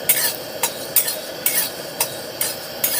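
Whole spices dry-roast in a pan for a mutton dish, with a steady soft sizzle broken by regular scraping strokes of a spatula stirring about twice a second.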